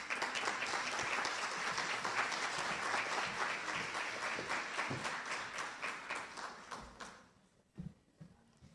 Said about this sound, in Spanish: La recibimos con un aplauso, por favor.